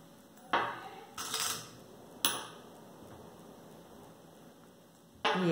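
Metal coins dropped one at a time into a container during a timed party game: a few sharp, bright clinks spaced irregularly over several seconds, close and fairly quiet, with no talking.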